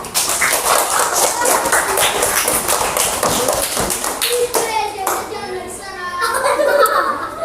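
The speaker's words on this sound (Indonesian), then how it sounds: "tepuk tangan dulu" Fourth-grade schoolchildren in an elementary classroom break into a burst of applause for a group coming forward, dense clapping for several seconds, then thinning into scattered claps and chatter with a woman teacher's voice.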